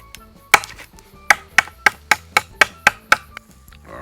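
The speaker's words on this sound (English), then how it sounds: "We cut our onions. We cut our potatoes." Onions and potatoes are chopped on a board at a backcountry camp, a series of about nine sharp knife thwacks, close and fairly loud, falling in a quick irregular rhythm with no talking.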